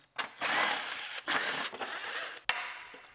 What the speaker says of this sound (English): Now we can unbolt our fog lights.